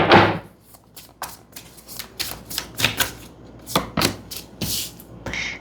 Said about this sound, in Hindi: मैं कुछ कार्ड्स निकाल लेती हूँ